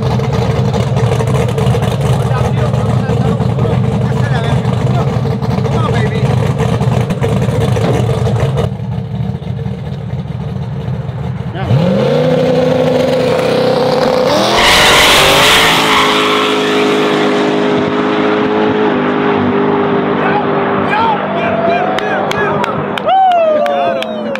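A Tesla Plaid drag racing a twin-turbo Chevy Silverado, with loud sustained engine roar and rising revs, a strong surge midway as the truck accelerates hard, and voices talking over the noise.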